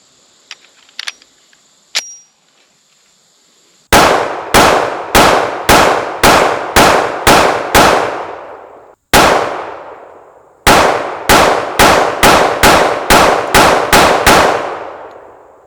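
A Kimber Warrior .45 ACP 1911 pistol fires steady strings of loud, sharp shots outdoors, about eight evenly paced rounds, a short pause, a single shot, then another quick string of nine, each with a ringing decay.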